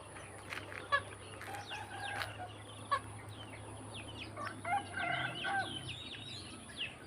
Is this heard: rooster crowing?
yes